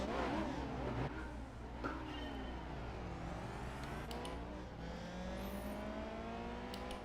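A modded car engine revs and climbs through gears in Gran Turismo 4, a loud continuous racing drone with rising and falling pitch sweeps and no talk.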